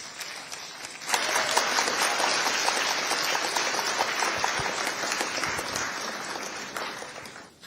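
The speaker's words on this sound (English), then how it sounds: "If you don't give Mr. Jim Ovia the applause of recognition that he deserves," A crowd at a Delta State security trust fund launch in Nigeria breaks into loud, sustained applause that swells and holds steady for several seconds, dense clapping filling the room.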